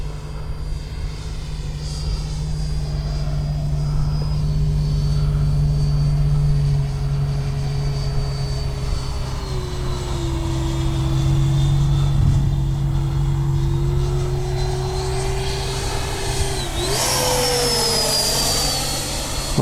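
A Taft Valkyrie 90mm RC jet plane takes off with a loud sustained turbine whine and roar, its pitch holding steady, then sliding and rising sharply near the end as it passes close.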